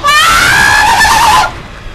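A loud, piercing human scream of fright rings out for about a second and a half while Dead Space is being played, then cuts off into quiet room noise.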